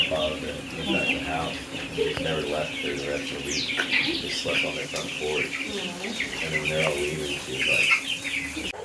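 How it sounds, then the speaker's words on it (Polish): Egg-laying hens clucking and chirping repeatedly at close range on a farm in Costa Rica, with voices talking over and between the calls in a busy farmyard. "Idziemy teraz zobaczyć kurczaki takie, które dają jajka."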